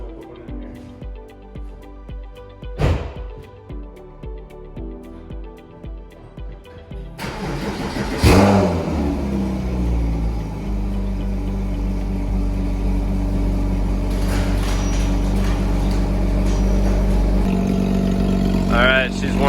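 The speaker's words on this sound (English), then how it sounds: "That cold start. Everybody loves cold start." A Porsche Cayman S 987.1 engine cold-starts, cranking and catching at once, roaring loudly before settling into a steady, rumbling idle close by.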